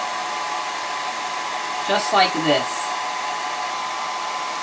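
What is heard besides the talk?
hair dryer blow drying watercolor paper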